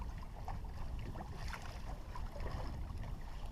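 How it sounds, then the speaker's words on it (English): A sailboat moving slowly on Lake Erie off Dunkirk, New York, in a 5 to 10 mph breeze at about 4 knots; close wind rush and water sloshing against the hull in a steady, unbroken wash. "Comfortable sailing, though slow."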